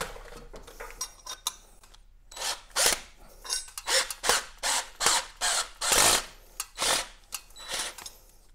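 A stripped screw being turned with a tool while assembling a wall-mounted lamp holder: a run of rhythmic scraping, grinding twists about twice a second, close and fairly loud, after a few lighter clicks and scrapes.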